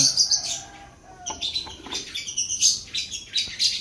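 Caged birds, with parents feeding chicks about 20 days old, give a busy mix of close, bright chirps and tweets in quick irregular bursts, with some softer calls and brief rustling between them.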